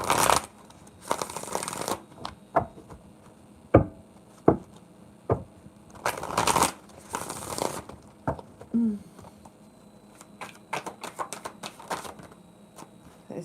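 A deck of tarot cards being shuffled in repeated bursts of riffling and sliding, with sharp taps and knocks between them, close and fairly loud with no talking.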